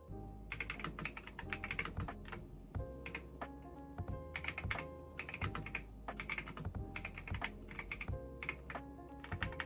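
Steady typing on an RK Royal Kludge R98 Pro mechanical keyboard, close up: a dense run of soft, deep, muted keystrokes with occasional heavier thocks, likely from larger keys, and no talking.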